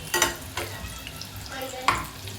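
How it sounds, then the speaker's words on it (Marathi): Pea and chana dal vadi sizzle in shallow oil in a pan, with a steady frying hiss broken by a few sharp clinks and scrapes from a utensil close by. "दोन्ही बाजू चांगल्या तळून घ्यायच्या असं जास्त पण तेल ओतायचं नाही"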